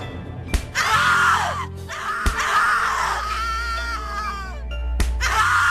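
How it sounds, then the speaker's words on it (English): Long anguished screams from a video game character in The Cat Lady, several drawn-out wailing cries with short gaps between them, loud and close over a low rumbling backdrop. "Scream louder, little bitch! Scream your lungs out!"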